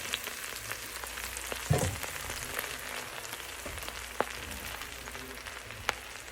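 Garlic and bread frying in olive oil for Portuguese acorda crackle and hiss in a steady, close sizzle, with a few sharper pops and a brief burst of stirring.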